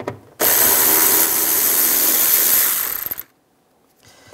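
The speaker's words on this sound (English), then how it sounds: "Using a 10 millimeter socket, take this bolt out." A bolt being removed with a 10 mm socket on a power tool while replacing a rear strut on a 2004-2009 Toyota Prius: a loud, steady whir of about three seconds that spins down and stops, close up.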